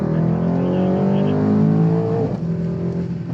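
A new Mercedes-AMG GT accelerates hard on a race track, its engine roaring loud and close with a steadily rising pitch before a brief dip near the end.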